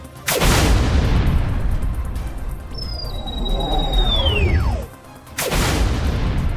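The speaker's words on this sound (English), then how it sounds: "He was thrown to the floor by the force of the Ock missile blast" Ock missile blasts in a sci-fi audio drama: two heavy booming explosions with crashing debris, separated by a long descending whistling tone as a missile falls, loud and close.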